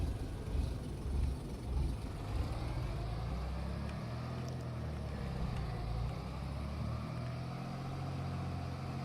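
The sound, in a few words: tractor driving in Farming Simulator 25 video game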